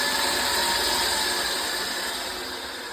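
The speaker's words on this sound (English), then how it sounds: "I'm going to turn this knob here so that I can put the lathe into manual operation" Continuous whirring motor hum of a Wabeco lathe running in manual operation, a steady mechanical whine close by that tapers slightly in loudness toward the end.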